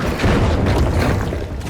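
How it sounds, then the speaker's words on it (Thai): A heavy booming grenade blast in The Finals video game, with rumbling low end and crackling debris, short and loud. "มันอัดระเบิดเข้ามาเลยนะครับ"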